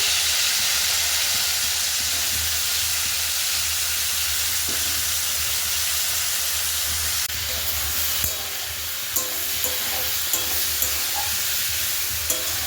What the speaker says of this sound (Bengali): তেল আমার গরম হয়ে গেছে, এর মধ্যে এবার আমি কুলগুলো দিয়ে দিচ্ছি।